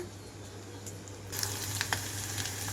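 Onions frying in a pan with a little turmeric, for a ridge gourd and moong dal curry: a faint, soft hiss over a low steady hum that grows brighter and louder partway through, with a few light ticks and no speech.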